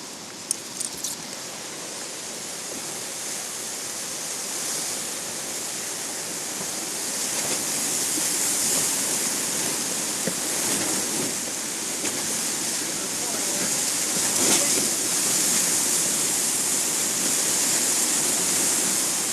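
Grand Canyon river rapids roar as a continuous broadband rush of churning whitewater, steady and loud throughout with occasional brief bumps and knocks.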